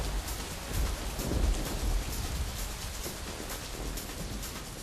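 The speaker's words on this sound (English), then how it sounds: "Watch what happens when I simulate rainfall on these two soils." Simulated rainfall pours onto soil samples, a dense, steady hiss of falling water spattering close by, fairly loud and without speech.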